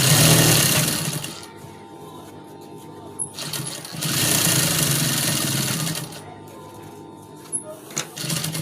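A sewing machine runs along the seam of a fabric cap in loud, close bursts with a short pause between runs and light clicks near the end, with no voices.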